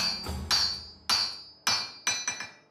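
A blacksmith in Bukhara strikes metal at the forge, five ringing hammer blows at an uneven pace with a metallic clink, close and clear without talk.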